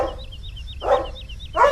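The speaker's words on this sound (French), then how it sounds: "arrête d'aboyer" A dog barks twice, close and fairly loud, over a repeating electronic chirping tone in the background.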